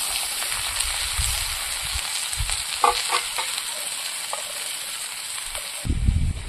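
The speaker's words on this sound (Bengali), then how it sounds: "চিচিঙ্গাটা আমি প্রথমে কেটে দিয়েছি, মা ভাজা করে দিচ্ছে।" Sliced ridge gourd (chichinga) frying in a pan, a loud continuous sizzle close by with scattered scraping stirs and a few knocks of a spatula against the pan.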